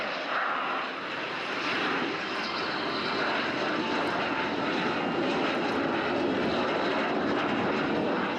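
A propeller aeroplane roars steadily and loudly close by at an air show, flying at about 120 miles per hour, its engine drone sustained throughout with a slight swell as it passes.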